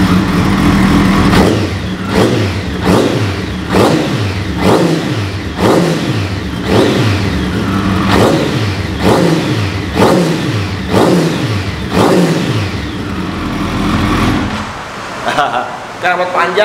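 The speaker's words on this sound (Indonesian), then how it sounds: "Nah, kita coba dengerin suara mesinnya ya." A big motorcycle engine with a stock header and a long exhaust revs up repeatedly in deep, heavy bursts, each blip rising and falling back to a low idle rumble, loud and close, with brief talk near the end.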